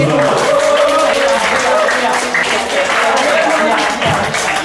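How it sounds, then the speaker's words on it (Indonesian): Crowd applause and clapping fill the room steadily at an IT conference, with murmuring voices mixed underneath. "Kasih tepuk tangan lagi."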